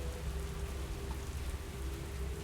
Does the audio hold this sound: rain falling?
yes